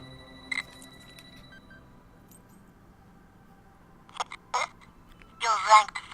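A phone call rings in the No More Heroes video game: short electronic ringing bursts near the end, the last one longer, over a quiet background with faint voices.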